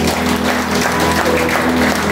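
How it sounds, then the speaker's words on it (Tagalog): A church congregation claps loudly for the Lord in a dense, continuous wash of applause that fills the room without pause. "alayan po natin ang Panginoon minsan pa ng malakas na palakpak"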